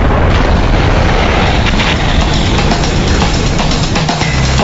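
A burning styrene chemical tanker truck, heard as a continuous loud roaring rumble of fire and blast noise close by, with scattered crackles and a deep thud near the end.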